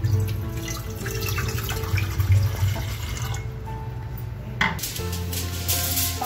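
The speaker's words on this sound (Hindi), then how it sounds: "अब इसके अंदर हम डालेंगे पानी" Water runs steadily into a pressure cooker on a lit gas stove while making a bread-crumb caramel custard cake, a continuous splashing tap-like pour with faint clinks of the pot.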